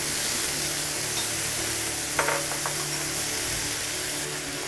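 Whole bhetki fish frying in a pan of oil, a steady close hiss of sizzling throughout with a few faint clinks of a utensil.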